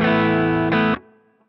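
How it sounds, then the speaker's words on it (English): An electric guitar chord played through a Boss GT-1000 Core with heavy distortion rings loudly, changes near the end, then cuts off, leaving a short faint reverb tail. "I'm going to turn the reverb on."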